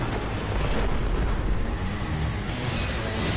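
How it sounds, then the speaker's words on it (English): A grenade blast in an action video game, a loud, sustained rumbling explosion that fills the whole span with dense roar and no voices over it. "He threw a grenade on me."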